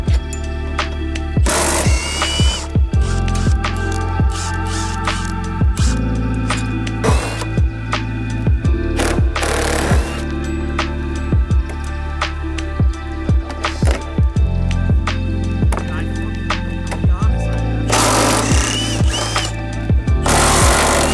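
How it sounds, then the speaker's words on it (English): Power tools and impact wrenches rattle in loud bursts while subframe attachment bolts are removed from a Subaru BRZ during a lift build, mixed with clanks and ratcheting close by. "So we're gonna unbolt the main attachment points for the subframe, so we have access to slide the spacers in."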